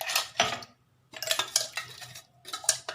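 Rice flour paste being mixed with water in a bowl, with a utensil clinking and scraping against the bowl in quick close bursts separated by short pauses.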